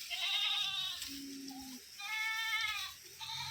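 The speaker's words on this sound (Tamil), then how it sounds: "வெள்ளாடு எவ்வளோ வச்சிருக்கீங்கம்மா?" Goats on a family farm that also keeps cattle and chickens bleat in two long, wavering calls with a lower, shorter bleat between them, close and clear with no talk.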